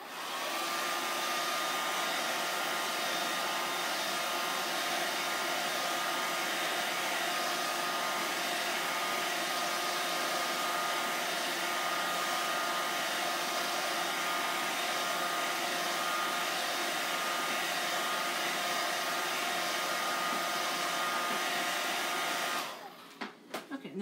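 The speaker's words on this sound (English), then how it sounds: "I'm gonna run my blow dryer over it really quick." A handheld blow dryer runs steadily over a chalk and peel stencil, a continuous loud whooshing hum with a faint whine that holds for over twenty seconds before cutting off near the end.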